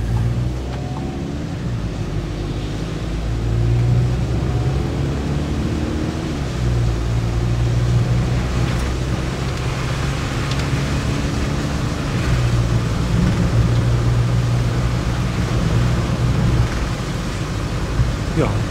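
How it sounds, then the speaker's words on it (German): Knaus Tourer Van 500 MQ camper van engine accelerating under normal driving, a steady low drone with rising and falling harmonics, heard from inside the cab over constant road and wind noise throughout. "den Motor mal hörbar zu machen. Das ist so, wenn man ganz normal beschleunigt."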